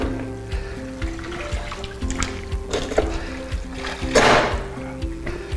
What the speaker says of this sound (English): Collapse the head, bring it to our rinse water,